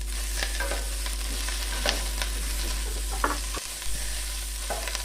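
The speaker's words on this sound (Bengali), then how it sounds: "2 থেকে 3 মিনিট মতো আমি এখানে ভেন্ডি ভেজে নেব।" Cut okra fries in a hot pan for a light, mustard-style vegetarian dish, sizzling steadily while a utensil stirs and scrapes in a few sharp bursts over a constant low hum, with no talking.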